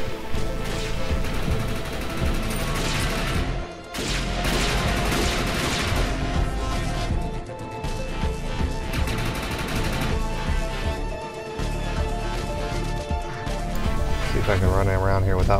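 A gun turret fires continuously in the shooter game Defiance at the Scrapworks salvage area, a dense, loud, unbroken barrage of shots with game sound filling the whole stretch.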